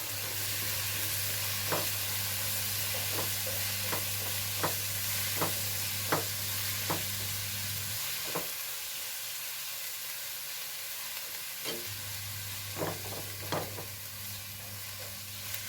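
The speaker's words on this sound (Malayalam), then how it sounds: "നല്ലോണം ഇളക്കി കൊടുക്കാം കേട്ടോ" Onions fry in a pan with a steady hiss while a utensil stirs them. Regular scraping clinks come about once a second, pause, then resume near the end.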